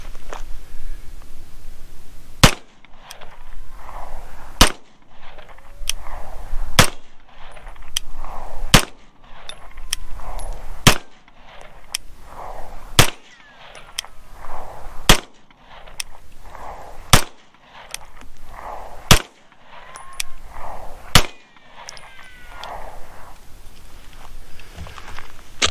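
A Beretta 92FS pistol firing 124 grain 9mm rounds, about ten sharp, loud shots spaced a couple of seconds apart, each a crisp crack with a brief ringing decay over quiet background.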